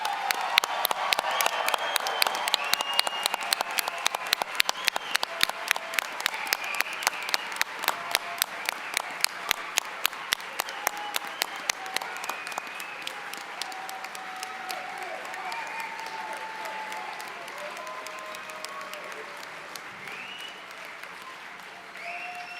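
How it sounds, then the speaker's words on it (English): A large crowd applauds graduates at the Central Ohio Technical College autumn commencement. Loud, steady clapping fills the first half and then fades into a softer murmur as voices take over. "Now let's give our graduates one more round of applause."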